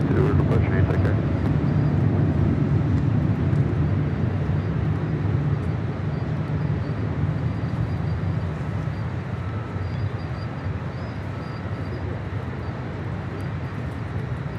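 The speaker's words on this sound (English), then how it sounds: "This is China Airlines Cargo 5155 departing to Osaka on a 777 freighter." A China Airlines Cargo Boeing 777 freighter departs LAX with a steady, loud low roar of jet engines that slowly eases off as it climbs away.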